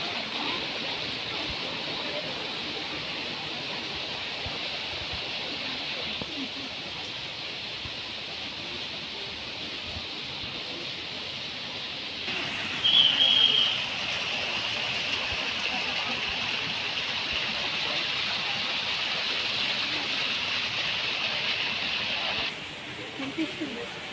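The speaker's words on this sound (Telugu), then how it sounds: "చూడండి ఇక్కడ చిన్న చిన్న వాటర్ ఫౌంట్లు, మొత్తం ఈ వాటర్ సౌండే అనిపిస్తుంది ఎటు చూసిన చుట్టుపక్కల మొత్తం." Small water fountains at Shilparamam splash steadily in a continuous broadband wash of falling water that fills the surroundings, loud and even throughout, with faint background voices underneath.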